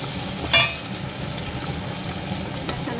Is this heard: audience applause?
no